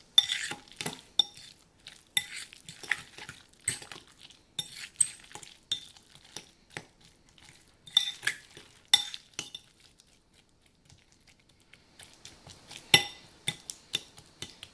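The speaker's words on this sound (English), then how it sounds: "Now I'm gonna mix all this in real quickly before I add the lime juice." Guacamole ingredients, including tomato, being stirred together in a bowl with a utensil: a run of soft scraping and clinking strokes, close and fairly quiet, with short pauses and no talking.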